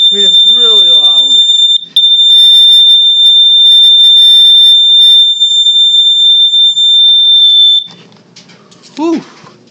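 A loud household smoke alarm sounds during a monthly test, held as a piercing, nearly continuous high tone for about eight seconds before cutting off, with whining, howl-like vocal sounds at the start and again after it stops.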